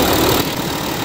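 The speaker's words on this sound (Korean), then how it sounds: "A6 45 TDI V6 엔진입니다." An Audi A6 45 TDI V6 diesel engine idles close by, a steady dense rumble with a slight dip in level partway through, heard alone without any talk.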